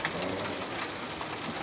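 Rain falling steadily as a dense, even hiss of drops on surfaces, close and constant throughout, with no voices.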